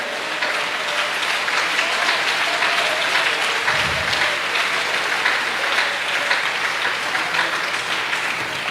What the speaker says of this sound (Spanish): si ese aplauso es para Él, de lo más fuerte